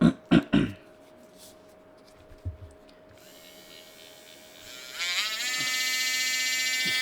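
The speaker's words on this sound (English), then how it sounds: "This is a really nice Dremel." A Dremel rotary tool spins up after a few knocks and handling sounds, first a faint hum, then a rising, steady high-pitched whine that holds loud and close to the end.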